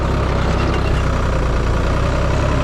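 Tractor engine labouring while pulling across a steep, stony vineyard slope, a steady loud low drone with continuous rumble and no pauses, heard alone.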